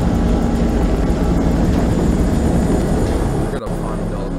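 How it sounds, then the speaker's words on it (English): A helicopter in the video game Man of Medan gives a loud, steady rotor and engine drone that fills the whole stretch and briefly cuts out near the end. "Oh, it's the helicopter."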